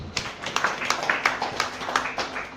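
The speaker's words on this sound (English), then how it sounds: "Clap for Jesus." Church congregation clapping in a steady rhythmic beat, about three claps per second, clear and even for the whole stretch, with no talk over it.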